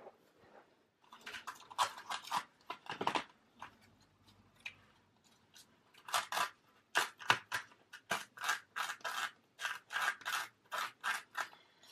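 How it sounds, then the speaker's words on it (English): Scissors snip threads off a paper ruffle in quick, close bursts of crisp cuts, some clustered, others spaced apart, with soft rustling of paper between them. "You can trim the threads off if you want."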